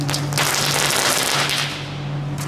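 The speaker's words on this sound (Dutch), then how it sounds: "Echt alsof het hele erge rotjes zijn." Rotje firecrackers bought at ALDI going off outdoors, a loud burst of sharp crackling bangs with noisy hiss between them, a steady hum underneath and no voices.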